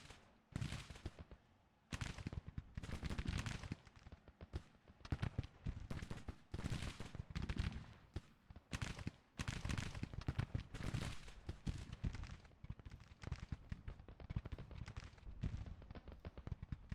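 Musket volleys and artillery crackle and pop in rapid irregular bursts across a Civil War battlefield in Grand Tactician: The Civil War, dense sharp reports continuing throughout at moderate distance, with no talk.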